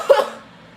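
A voice imitates a coworker coughing: one short, harsh cough burst near the start that trails off quickly, loud and close.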